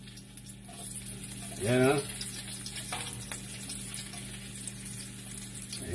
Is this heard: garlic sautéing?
yes